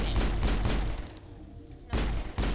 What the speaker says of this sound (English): How are they shooting us when we can't shoot them?